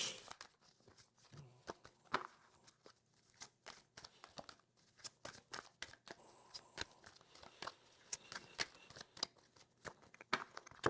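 Tarot or oracle cards shuffled and cut for a reading, crisp papery riffles and soft slaps in quick irregular bursts, close and fairly quiet.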